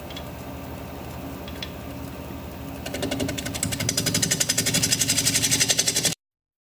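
A wood lathe spins a bowl blank at about 700 RPM: a low hum at first, then the tool bites and a loud, rhythmic chattering scrape builds over the last few seconds before cutting off abruptly.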